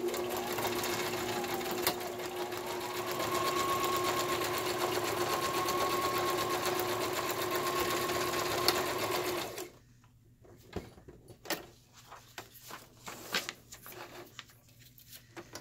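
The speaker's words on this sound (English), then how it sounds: "And I'm going to sew this as close to the top as I can" A sewing machine runs steadily for about ten seconds while stitching across the top of ring binder journal pages. It is close and loud, then stops, leaving light handling noises and rustling.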